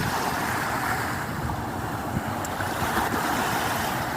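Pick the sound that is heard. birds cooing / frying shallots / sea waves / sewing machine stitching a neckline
sea waves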